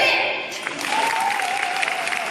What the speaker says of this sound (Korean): 다시 한번 축하의 박수 부탁드리겠습니다